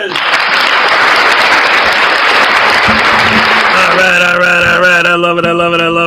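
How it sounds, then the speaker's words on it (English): A live audience applauds for Minnie Hez at a casual morning show, steady dense clapping filling the room, then a sustained musical tone and faint voices join near the end as the clapping fades. "Round of applause for Minnie Hez."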